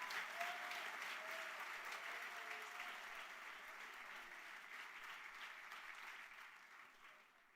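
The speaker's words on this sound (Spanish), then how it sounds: "cuántos pueden aplaudir al Señor en esta hora" Sustained applause from a large church congregation, steady and dense, fading slightly toward the end.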